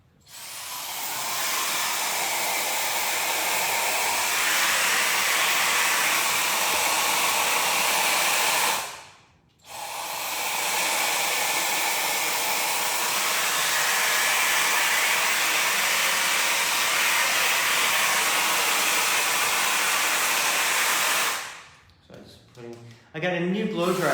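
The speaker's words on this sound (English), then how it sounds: "I got a new blow dryer." A blow dryer roars steadily at close range, cuts out briefly, then runs again before switching off near the end.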